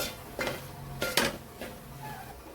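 Masala sautéed in a pan over a low flame for a prawn curry: a few sharp metal clinks and scrapes of a spoon against the pan over a faint background.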